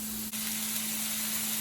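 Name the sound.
meat stir frying in a pan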